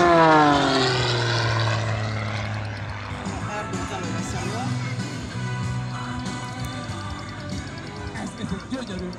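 Aerobatic propeller airplane at an air show, its engine drone sweeping down in pitch as it passes, then a rough, fluctuating roar of the engine and prop while flying sideways, fairly loud and continuous.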